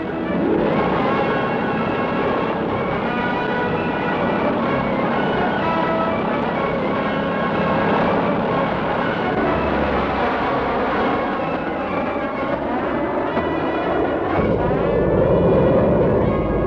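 Cargo planes flying an insecticide airlift from Air Force bases near Washington, D.C. to Cairo make a steady, loud, droning engine roar that holds without a break.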